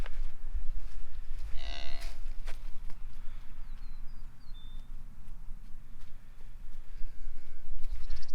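A cow moos once, loud and close, during spring calving, a mother with her week-old calf nearby, followed by outdoor wind noise and faint bird chirps without voices.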